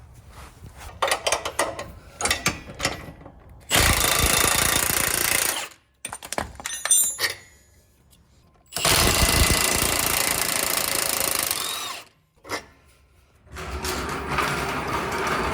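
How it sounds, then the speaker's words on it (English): On a Jeep Wrangler JL, an 18mm socket and wrench loosen the sway bar links from the axle. Loud, rattling mechanical bursts of several seconds alternate with short clicks and brief silences, close and harsh. "using an 18mm socket and wrench, we're going to disconnect the sway bar links from the axle."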